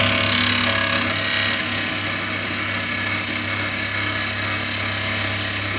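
A gouge cuts a wooden spindle spinning on a woodturning lathe, giving a loud, steady whirring scrape that runs without a break and has no talk over it.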